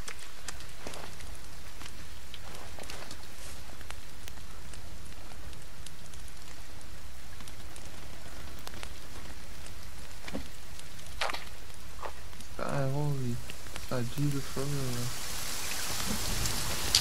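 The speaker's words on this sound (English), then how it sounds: "Oh, it's pouring, man." Steady pouring rain with distant thunder rumbles in the survival game The Forest, a continuous hiss filling the whole stretch while someone speaks briefly near the end.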